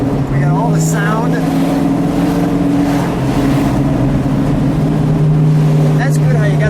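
A 1970 Plymouth Hemi Cuda with a 426 Hemi and 4-speed gearbox drones loudly and steadily from inside the moving car, its engine note shifting slightly in pitch as it drives.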